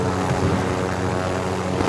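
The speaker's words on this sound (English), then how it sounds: "Hanging on to the side of the chopper, right, shooting in." Helicopter in the video game Call of Duty: Modern Warfare, a loud, steady rotor and engine roar filling the whole stretch with no breaks.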